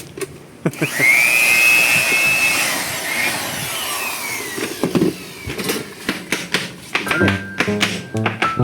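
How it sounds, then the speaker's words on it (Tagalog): An aspirator blower starts with a loud whirring whine that rises and holds, then settles into a rougher running noise broken by repeated clatters and knocks, fairly close. "Aspirator blower."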